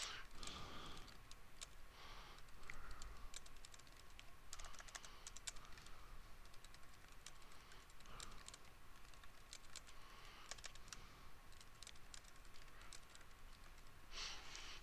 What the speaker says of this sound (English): I'm just going to type in some bogus text.